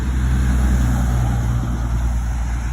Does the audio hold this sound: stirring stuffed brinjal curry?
no